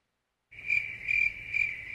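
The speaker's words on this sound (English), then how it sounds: "the crickets be on point" Crickets chirp steadily after a short silence, a loud, even, pulsing trill repeating at a regular rhythm, close and alone.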